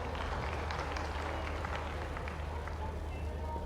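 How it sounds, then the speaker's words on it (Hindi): A crowd at a political rally for Madhya Pradesh Chief Minister Mohan Yadav in Khandwa claps steadily, a dense, even wash of applause that holds at one level throughout. "इस पर जोरदार मोहन जी की ताली बजाइए"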